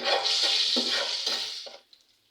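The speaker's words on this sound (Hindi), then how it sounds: "अब मैंने इसमें सारे मसाले ऐड कर दिए हैं। अब मैं इसे मिक्स करूंगी।" Spoon stirring salt, red chilli, turmeric and dried coriander powder in a pan for a mixed masoor and moong dal, with scraping strokes and sizzle that fade out at the end.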